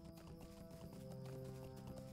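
Horse mount hooves in the video game Lord of the Rings Online, a steady clip-clop of hoofbeats running under layered game music, moderately loud and continuous throughout.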